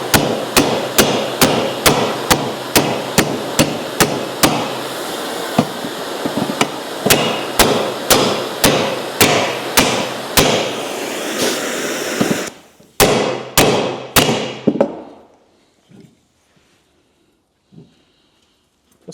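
Hammer striking an anvil while prepping a race car's ball joint, a long run of sharp, loud, ringing blows at a fast steady rhythm, then a faster final flurry before falling silent.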